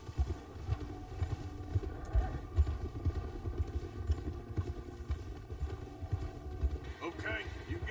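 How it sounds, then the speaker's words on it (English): Video game horses clip-clop at a walk with saddles softly rattling, their hooves shifting from snow into river water, a steady, moderately close rhythm under a continuous layer of background sound. "focus on the little rattles that the saddles are making as the horses are moving, and the change of the sounds of the footsteps as they go from snow to the river"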